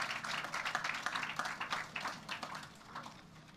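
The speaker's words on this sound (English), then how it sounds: "One more round of applause," Light, fairly distant audience applause for the Tivoli Dance Troupe at a floral tribute ceremony, a steady patter of many hands that slowly thins out over a few seconds.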